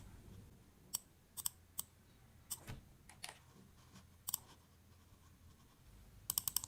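A computer mouse clicks quietly while a Google Cloud Platform project ID is copied: sparse, sharp single clicks and a quick cluster of clicks at the end, over faint room hiss.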